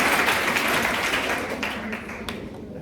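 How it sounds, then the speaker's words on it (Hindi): An audience at a college lecture claps on request, a dense burst of applause that starts loud and slowly thins out over a few seconds. "ताली बजाओ"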